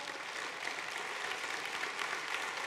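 An audience at a social housing staff convention applauds in a dense, continuous wash of clapping, heard somewhat distant and even throughout.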